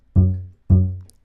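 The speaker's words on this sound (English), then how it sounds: "the regular bass sound just sounds like this" Plain bass sample played as two separate short notes, each with a firm attack and a decay, close and clear with a short silence between them and no talking.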